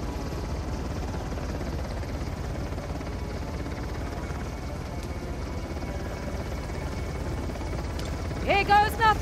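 A helicopter in the game Uncharted: The Lost Legacy gives a steady, dense rotor and engine drone throughout, with brief game sounds breaking in at the very end.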